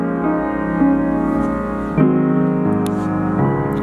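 A Yamaha G5 grand piano plays itself through a PianoDisc system, sounding layered chords and sustained notes close and fairly loud, with new chords struck every second or so.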